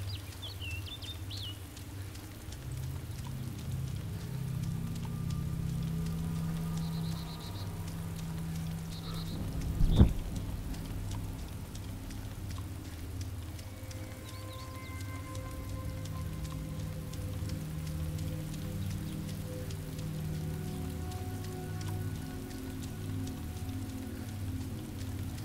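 Steady rain in the video game DayZ patters on surfaces with a soft hiss, a sharp knock partway through and faint birdlike chirps in the background.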